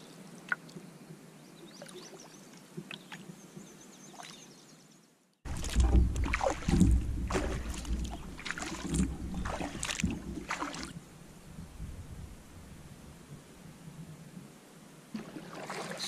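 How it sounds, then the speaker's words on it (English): Paddling a canoe on a lake: after a few quiet, faint strokes, close rhythmic splashes and water swishes from paddle strokes begin abruptly and continue, with light dripping between pulls. "I am going to have it today as I paddle along to Frost Lake"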